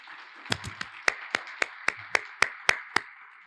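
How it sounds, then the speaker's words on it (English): Slow, scattered clapping at a school district State of the District address honoring a health worker, about a dozen distinct sharp claps spaced evenly and fairly close, with no talk. "we would like to ask you to stand and allow us to say thank you through a round of applause"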